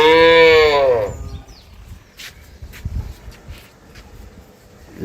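A Holstein Friesian dairy cow lets out one loud, drawn-out moo close by, followed by quieter ambient farmyard noise and faint rustling.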